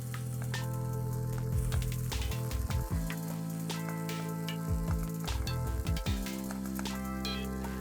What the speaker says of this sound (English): Saute the chicken for a few more minutes.